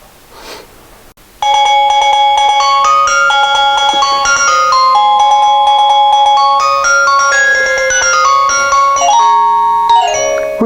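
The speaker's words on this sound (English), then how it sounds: "you're going to hear the front gate ring chime." A wireless driveway alarm at a ranch's front gate plays a loud, bright electronic melody of bell-like tones, ringing out alone for several seconds after a quiet start.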